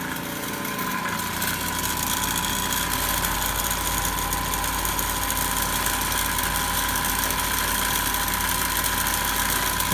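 A DC motor runs in an electrical machines lab, giving a steady, close hum with a constant tonal whine and slight vibration, starting up in the first second then holding an even speed.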